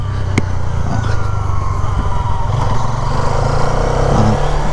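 A Hero Karizma XMR motorcycle on a long ride near Sirajganj gives a loud, steady engine drone with wind rush and slight rises in revs.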